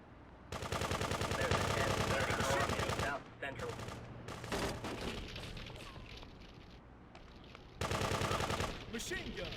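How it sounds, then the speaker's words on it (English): Rapid bursts of machine gun fire from the video game GTA 2, loud and close, coming in a long sustained volley, then shorter broken bursts, then another heavy volley near the end, with no talking. "Machine gun."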